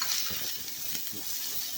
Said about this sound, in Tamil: இப்போ ரெட் கேப்சிகமும் ஆட் பண்ணிக்கலாம்.